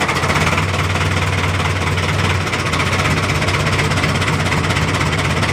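A fishing boat's engine running at sea, a loud continuous low diesel drone with a steady knocking throb that holds evenly throughout, with no talk.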